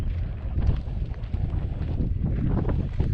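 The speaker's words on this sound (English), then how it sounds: "Very windy. It's probably all you're hearing." Gusty wind buffets the microphone near railway tunnels between Bealville and Cliff, a continuous low rumbling roar with uneven surges throughout.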